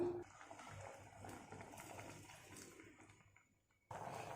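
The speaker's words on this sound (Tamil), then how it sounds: "இப்போ தேவையான அளவு இந்த மிக்ஸி ஜாரை கழுவி தண்ணி ஆட் பண்ணிக்கலாம்." Water splashes and swirls into a mixer grinder jar for a few seconds, then stops briefly before another sloshing burst; moderately quiet and close.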